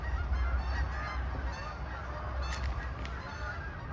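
Geese honk overhead against a steady low rumble, with a few brief calls standing out near the end.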